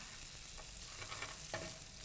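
Vegetables and seasonings stir-frying in a wide pan: a steady close sizzle with a few scraping stirs, no talk.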